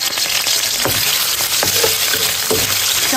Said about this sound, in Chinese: 热锅凉油，先炒五花肉